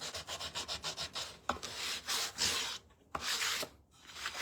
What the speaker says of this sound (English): I am gonna give this a light sanding.